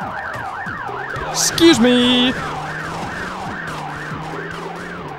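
Wailing police car sirens in The Getaway video game, steady and loud over engine drone, with a brief honk-like burst and a short spoken line partway through.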